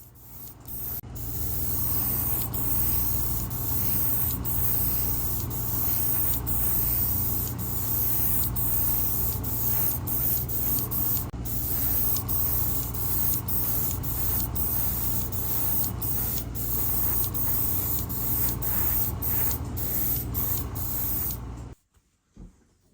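Kaleido Primary Purple base coat sprayed onto a 25-year-old Revell Chevy S-10 Lowrider model kit: a steady close airbrush hiss running for about twenty seconds, broken by brief clicks, then cutting off near the end.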